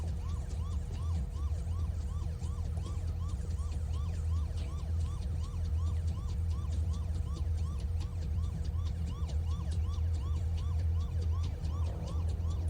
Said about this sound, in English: Y'all can turn off the fucking siren.